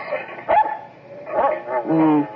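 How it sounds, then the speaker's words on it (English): A small dog barks as an old-time radio drama sound effect: three short, yappy barks spaced apart, close and clear. "There's a dog on your lawn."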